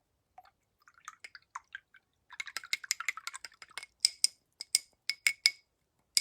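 A paintbrush is dipped into a cup of water, giving a quick series of small clinks, taps and wet swishes, close and clear with nothing else heard.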